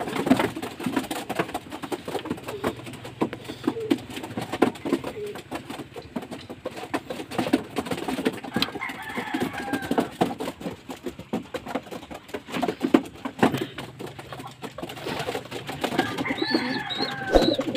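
Pet pigeons coo softly while drinking electrolyte water, low throaty calls repeating under scattered patter, scratching and handling noises, with a person speaking briefly at times.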